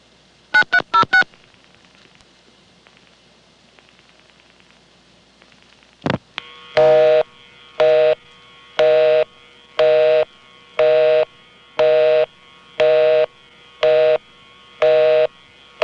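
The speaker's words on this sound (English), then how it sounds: "The busy signal sounds different from the last example" A few quick keypad tones, then a steady series of evenly spaced beeps, about one per second, a telephone busy signal from a 1976 Senderized XY step-by-step exchange in Manassas, Virginia.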